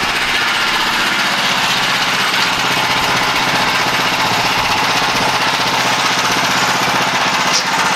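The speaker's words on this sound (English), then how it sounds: "So I'll crank it back up and cut one more slab." Sawmill engine and blade running steadily while cutting a wood slab into bench lumber, a loud continuous mechanical drone and rattle with no breaks and no talking.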